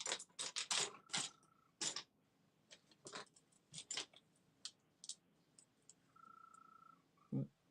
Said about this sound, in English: There's a tree frog in our windowsill somewhere.